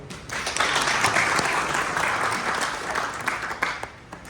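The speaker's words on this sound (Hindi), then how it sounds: "एक बार मैडम के लिए भी तालियां।" Guests at a retirement party for a long-serving Delhi Police officer break into sustained applause, a dense, steady wash of clapping from a nearby crowd that swells and holds for several seconds without talk.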